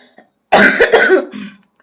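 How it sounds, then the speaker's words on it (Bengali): One loud, close cough, a harsh burst followed by a short trailing rasp. "আমি জানি না আগের গ্রুপে এতটা কাশি হয়নি"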